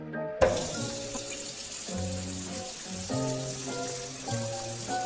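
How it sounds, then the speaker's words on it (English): A water tap runs into a bathroom sink for hand washing, a steady close rush of water that carries on through the whole stretch, with faint tonal sounds layered underneath. "Let's turn on water tap and use soap to wash my hands and turn off water tap."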